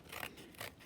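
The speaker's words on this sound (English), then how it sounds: "I'm going to get my paper scissors." Paper scissors snipping through paper in a craft session, two short close crisp cuts about half a second apart, with no voices.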